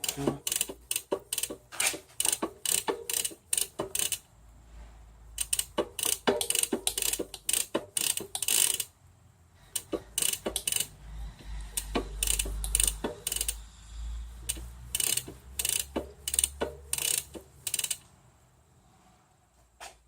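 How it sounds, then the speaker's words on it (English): Gears on a Catrike recumbent trike clicking and ratcheting as the chain shifts across the cogs, a rapid run of sharp metallic ticks in bursts over about twenty seconds with a low rumble beneath, close up and with no talking. "And I'll have to change the gears to get those two last little cogs."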